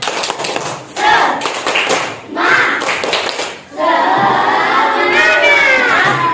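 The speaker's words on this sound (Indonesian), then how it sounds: "Tepuk semangat." Schoolchildren in a classroom perform a rhythmic spirit clap, loud patterned bursts of clapping in quick groups, then break into a shouted group chant that carries to the end.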